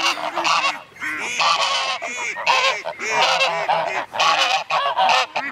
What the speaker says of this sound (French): Donc ici il y a mes oies de Toulouse